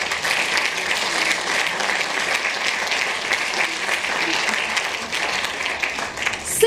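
Warm, sustained applause from a theatre audience at a film festival closing ceremony, a thick even roar of clapping that holds steady throughout with no pause.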